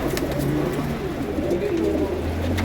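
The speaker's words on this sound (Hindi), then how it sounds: "आउट क्लास किस्म के कबूतर हैं।" Flying pigeons coo in low, soft, rolling calls that repeat over steady background noise, with no one speaking.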